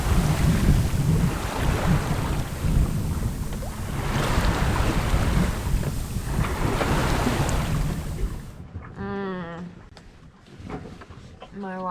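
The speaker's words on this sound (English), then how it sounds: "We're just effortlessly cutting through these waves" A sailboat slices through open-sea waves as the sun sets, with rushing water, hull wash and steady wind buffeting the microphone loud and close; the wash drops away near the end, leaving quieter water and a brief whistling tone.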